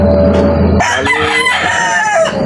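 A young rooster (stag), a Kanawayon Hennie crossed over Regular Grey chicken, crows loudly and close by in one drawn-out call that starts abruptly and runs to the end, with softer farmyard noise before it.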